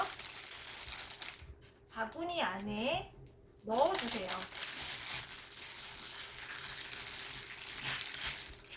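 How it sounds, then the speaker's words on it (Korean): Crinkling plastic wrap rustles steadily and close by while wrapping floral foam for a flower basket, with someone speaking Korean over it in the middle. "비닐로 이렇게 감싸주시고요."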